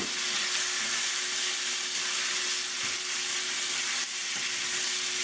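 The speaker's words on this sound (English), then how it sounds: "Let's go ahead and add our meat to it." Beef for a broccoli stir fry sizzles and fries in a hot pan, making a loud, steady hiss with faint crackles throughout, close up and without speech.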